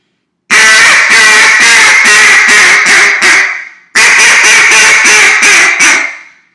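Loud, close duck call with a Cajun squeal, blown in two descending series of rapid quacks, each run tapering off with a squealing, clipped end.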